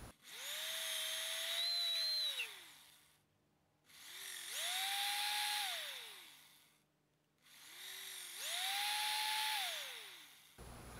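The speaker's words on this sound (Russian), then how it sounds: "беру сверло чуть меньшего диаметра самой тонкой части и расширяю" A power drill whines in three separate bursts as its bit widens a hole in cork, each pitch rising as it spins up, holding, then winding down, with short pauses between.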